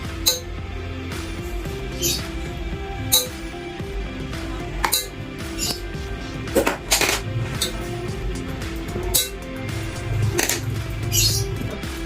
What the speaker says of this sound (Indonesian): kita pukul pensil kayu ini ke salah satu sisi gelas